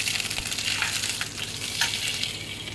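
Grated ginger sizzles in hot oil as part of a tempering for a vegetarian bottle gourd and pigeon pea dal, giving a steady, close, loud frying hiss with light stirring and no talk.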